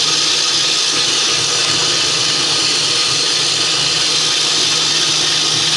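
A GE Profile smart stand mixer whips egg whites with a loud, continuous motor whir and steady beater hiss that stays even from start to finish, with no talking.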